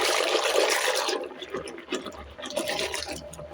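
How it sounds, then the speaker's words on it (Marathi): Cream mixed with water is churned by hand for butter, giving a sloshing, splashing liquid sound that swells and fades in uneven surges, close and fairly loud. "ज्या डब्यामध्ये आपण मलाई साठून ठेवली होती त्याच डब्यामध्ये पाणी घालून तेच पाणी ह्याच्यामध्ये घालून पुन्हा एकदा छान घुसळून घ्यायचं"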